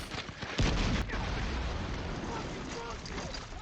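Artillery shells bursting in a World War II Okinawa battle scene from a TV drama, friendly fire landing close, with a sharp loud impact early followed by a sustained roaring rumble of bombardment and debris.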